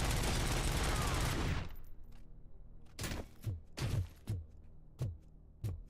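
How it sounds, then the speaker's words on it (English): Gunfire in the video game Robocop: Rogue City: a dense burst of automatic fire opens, then sharp separate shots crack at irregular intervals, close and loud, without speech. "Somebody else shooting at me?"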